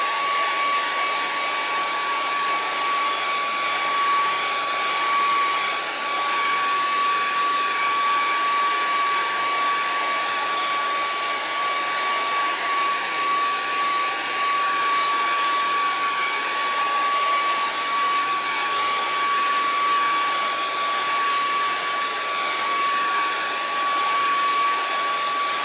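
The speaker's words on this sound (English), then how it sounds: "I'm going to blow dry this because I'm going to be leaning and stuff" A hair dryer blows steadily on chalk-based lettering, a loud, constant whir with a high whine that holds unchanged for the whole stretch, with no talking.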